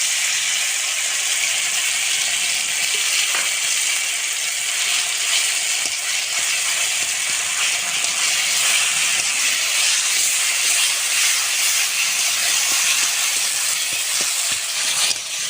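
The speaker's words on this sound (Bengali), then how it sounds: "এভাবে পটলের দানাগুলো হালকা করে ভাজতে হবে" Ground pointed gourd seed paste fries in hot oil, giving off a steady, unbroken sizzling hiss that stays at an even level for the whole stretch, with no voices.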